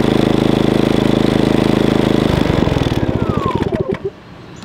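Genmax 350 RV generator engine idling loudly and steadily up close, its even mechanical drone running for a couple of seconds before the rhythm coarsens into distinct pulses and winds down as it shuts off.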